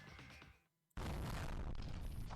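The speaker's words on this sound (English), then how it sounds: "The sound of a massive explosion comes from the distance, followed by a series of continuous blasts." Distant massive explosion in a video game: a rumbling passage dies to near silence, then a sudden heavy boom erupts and carries on as a continuous roar of blasts.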